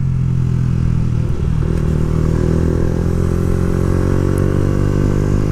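A Yamaha YZF R125 motorcycle with an Akrapovic exhaust idles up close, giving a loud, steady, throbbing low rumble that holds for the whole stretch, with no talk.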